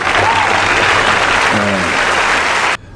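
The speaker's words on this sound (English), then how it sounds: "We should give them applause for that." Audience applause on a radio talk show, a dense, even wash of clapping that holds steady for nearly three seconds and then cuts off abruptly.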